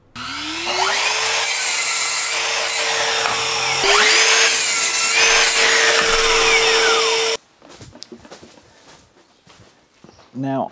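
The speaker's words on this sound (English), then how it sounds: "go to the miter saw and start getting them as cut" Power miter saw cutting lengths of timber for a building's wall framing, two long sustained cuts with a rising motor whine that spins down, followed by quieter clattering as boards are handled nearby.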